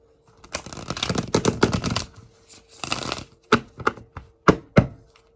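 Tarot cards are shuffled close by: rapid riffling bursts of papery flutter, then several separate sharp slaps as the deck is knocked and squared.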